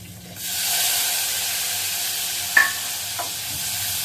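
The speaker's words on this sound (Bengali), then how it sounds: "মেথি ফোড়ন দিয়ে পেঁয়াজটা ছেড়ে দিলাম" A steady, broad sizzle of onions frying in hot oil with fenugreek seeds, with a brief scrape of a utensil partway through and no talking.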